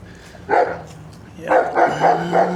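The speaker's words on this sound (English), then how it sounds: "There's a guard dog back here." A guard dog at a house being demolished barks loudly and close by, one sharp bark followed after a pause by a quick run of three or four rough barks.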